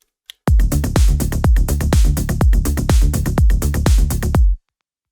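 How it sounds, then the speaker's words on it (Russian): A punchy, rhythmic afro house percussion loop of deep drum hits and clicky accents repeats for about four seconds, then stops abruptly. "Такой немного афро-хаус луп."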